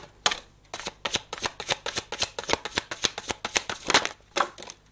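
Tarot cards are shuffled close by in a quick run of crisp riffling flutters, repeating in a steady rhythm for several seconds.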